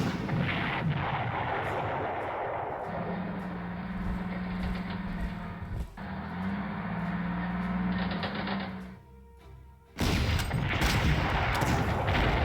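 Massed artillery bombardment in the Panzer Corps wargame, ten guns plus level bombers hitting a Novgorod position: dense continuous rumbling barrage with steady booms, a low droning tone mid-way, a brief lull, then a renewed loud burst.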